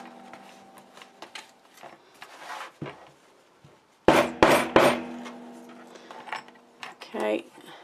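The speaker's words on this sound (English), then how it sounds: "and then I can just hammer it all at once" A small craft hammer banging on a paper craft storage box, giving scattered light taps, then a loud cluster of sharp knocks in the middle and a few more blows near the end.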